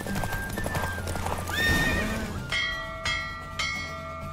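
Hooves clip-clop rapidly as a horse gallops in The Witcher 3: Wild Hunt, followed by a loud whinny, then three ringing bell-like tones, all sharp and synthetic in character.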